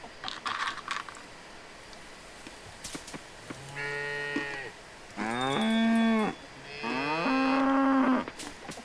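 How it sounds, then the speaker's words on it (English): Cattle lowing in the farming game Coral Island: three long, loud moos in close succession, each a sustained harmonic call, preceded by faint clicks and soft game sounds. "Okay, now we wait for the cows."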